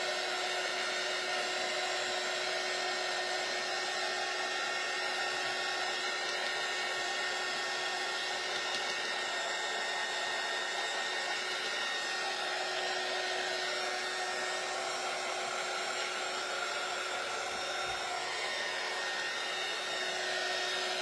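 A hair dryer blows hot air steadily for the whole stretch, melting stringy hot glue off a farmhouse-style Christmas tree craft. The whir is a continuous broadband roar that stays close and even, with no one talking over it.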